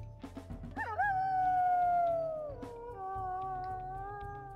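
A higher-pitched wolf howl from the video game WolfQuest swoops up, wavers, then slides down into a second sustained note, with soft rumbling in the background.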